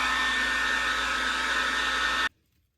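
An automotive air tool stands in for a hair dryer on a hen, a loud, steady rushing whine of air held at a distance that cuts off abruptly into near silence.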